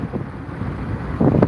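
Outdoor wind buffeting the microphone on a nice day, a constant low rumbling gust that swells briefly at the end.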